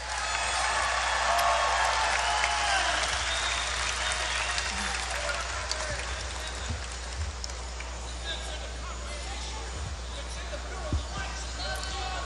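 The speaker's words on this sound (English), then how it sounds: "Please give a round of applause for my good friend" A large crowd at a Donald Trump rally in Melbourne, Florida applauds and cheers loudly at the start, then the clapping slowly dies down to scattered claps and crowd noise.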